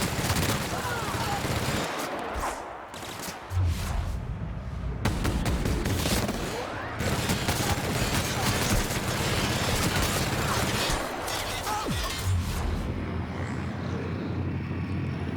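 Sustained rapid gunfire from a weapon in the video game The Outer Worlds, loud and dense bursts filling the scene with a few brief pauses, while a voice speaks in the background.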